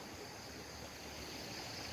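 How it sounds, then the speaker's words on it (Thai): Floodwater running across a flooded rice field after heavy rain, a faint, steady rushing wash of flowing water with no break. "นอกนั้นก็เป็นน้ำไหลผ่าน"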